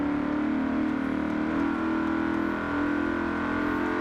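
A Holden Commodore Group A race car in Forza Horizon 4 holds a steady, loud engine drone as it revs through first gear, continuous with no speech over it.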